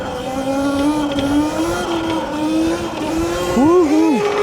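An RTR Lite radio-controlled car buzzes loudly and steadily, its electric motor whine climbing in pitch and warbling up and down near the end as it accelerates hard into a wheelie.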